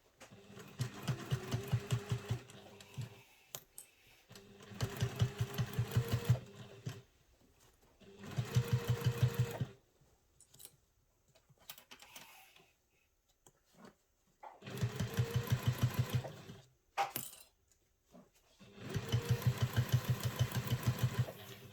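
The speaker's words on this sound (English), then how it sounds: "Remembering to stop to back stitch." Sewing machine stitching a travel satchel, with close, steady runs of rapid mechanical stitching broken by pauses for back stitching, about five bursts in all and quiet handling noises in the gaps.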